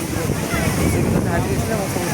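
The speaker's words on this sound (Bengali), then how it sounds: "প্রবল উত্তাল হয়ে উঠছে সমুদ্র" Rough, swelling sea at Digha beach in West Bengal under a cloudy sky at high tide, a dense steady roar of surf with wind buffeting, while someone speaks over it.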